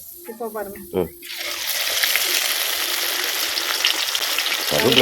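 Fish sizzles and crackles in hot oil on a wood-fired stove, a loud dense frying hiss that rises after a second and holds steady, with brief voices talking at the start.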